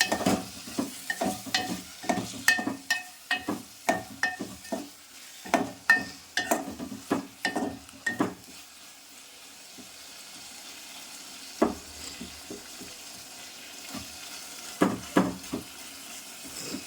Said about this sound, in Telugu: మళ్ళీ ఒకసారి అడగంటకుండా కలుపుకోవాలి